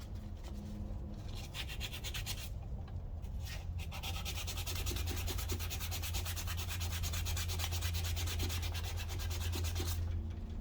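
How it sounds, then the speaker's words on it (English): A brass trumpet receiver part being rubbed down with 400 grit sandpaper, a continuous close scratchy rasp of steady back-and-forth strokes with brief pauses, alone without talk. "I'm going to grab a little bit of 400 grit sandpaper and just get it down a little further."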